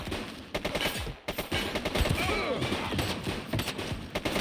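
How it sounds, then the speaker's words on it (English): Rapid bursts of gunfire ring out in the police video game The Precinct, loud and overlapping in a dense fusillade with thuds mixed in. "Shots fired!"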